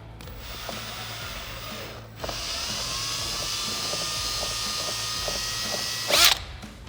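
A power drill whines steadily for several seconds drilling through factory plastic on a Can-Am Maverick X3, pausing briefly before starting up again, with a short sharp burst near the end.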